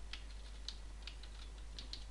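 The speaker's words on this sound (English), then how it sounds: "Now I'm going to type in printf" Keystrokes on a computer keyboard while C code is typed, a quick irregular run of light clicks close by over a low steady hum, with no voice.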